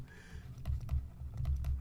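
The word "claim" being typed on a computer keyboard: a quick run of soft keystrokes, six or seven light taps in an uneven burst, faint and close with no voices.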